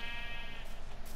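A Minecraft sheep bleats in a steady, buzzy tone that holds loud and close for just over a second, alone with no talk.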